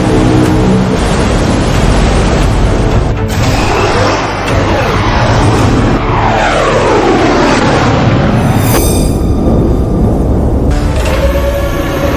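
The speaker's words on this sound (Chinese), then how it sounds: "这是我们的战斗机，这是我大夏的战机编队" A formation of fighter jets roars overhead as a drama sound effect, a loud, continuous engine rumble with sweeping passes that rise and fall over about twelve seconds.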